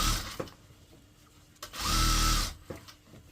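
A sewing machine stitches around the belt of a churidar pajama in one short motor run of about a second, amid scattered fabric-handling knocks and clicks nearby.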